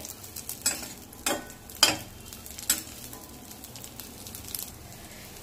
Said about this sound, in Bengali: পায়েসের মধ্যে কাজু আর কিশমিশটা ঘিয়ে ভেজে দিলে পায়েসের টেস্টটা খুব ভালো হয়।